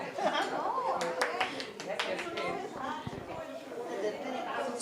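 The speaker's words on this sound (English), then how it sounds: "Give her a big applause, please." An audience at a World Autism Day awareness program claps for a participant. The scattered applause blends with steady crowd chatter and nearby talking, at a moderate level throughout.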